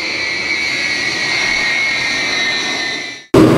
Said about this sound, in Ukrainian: Транспортний літак Іл-76 повітряних сил, пілотований екіпажем з Мелітополя, відбув в охоплену громадянською війною Лівію.